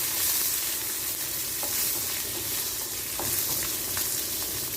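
Sambar onions fry in hot oil in a pan with a steady, close sizzle, and a spoon stirs them now and then with faint scraping ticks. No voices.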